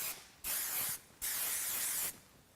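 Two bursts of keratin hairspray with flexible hold misted onto curly hair, each a steady airy hiss of about half a second to a second, close and loud, separated by a short pause with no talking.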